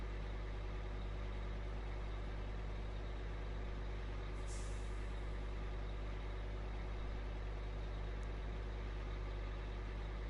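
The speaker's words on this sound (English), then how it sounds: "Oh, Prometheus truck again." Prometheus truck from SnowRunner idling with a steady low engine rumble throughout, a brief hiss of air released midway and another faint puff later.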